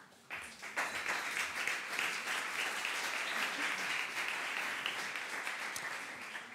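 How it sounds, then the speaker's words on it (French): An audience applauds at a French PhD-in-180-seconds contest heat in Orléans, steady dense clapping that starts abruptly after a quiet moment and continues evenly throughout. "Voilà, on l'applaudit."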